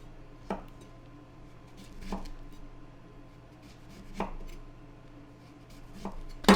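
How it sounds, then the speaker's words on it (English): A knife cuts a lemon into thin slices, about a quarter inch thick, on a board in a home kitchen: four separate crisp chops spaced a couple of seconds apart, close and fairly quiet, with no talking. "I'm gonna go ahead and cut my reserved lemon into thin slices"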